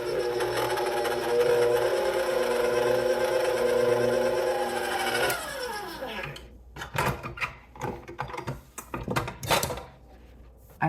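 Stand mixer blending egg white bread batter at low speed, a steady loud whirring drone that stops about halfway, followed by clattering bowl and utensil knocks.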